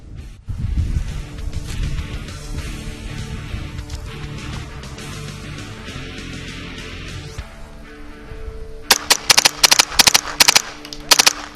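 Paintball guns fire during a woodsball firefight, first as scattered distant pops, then as a close, loud burst of rapid repeated shots near the end.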